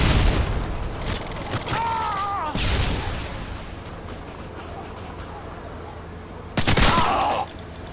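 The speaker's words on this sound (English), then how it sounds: "Throwing stun grenade." A stun grenade goes off in Call of Duty: Modern Warfare 2 during an online clan match, one sharp blast followed by a second burst of game noise, amid continuous gameplay sound.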